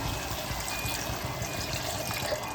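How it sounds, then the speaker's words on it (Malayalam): Almost a cup of hot water is poured onto rice and chicken for chicken madhooth, a continuous close trickle and splash with a soft, even flow. "ഞാൻ ഓൾമോസ്റ്റ് 1 കപ്പ് ഹോട്ട് വാട്ടർ ഇതിലേക്ക് ഒഴിക്കുകയാണ്"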